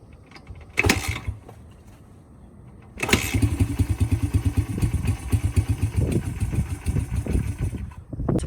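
Old Honda dirt bike, unstarted for ten years, catches briefly on a kick, then fires up and runs with a loud, uneven, sputtering engine rhythm close by.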